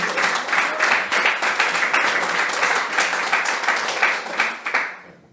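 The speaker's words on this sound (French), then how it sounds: "On peut applaudir encore une fois pour fêter" A church congregation in Lille applauds during an Easter celebration service, sustained dense clapping close and loud that fills nearly the whole stretch before cutting off abruptly at the end.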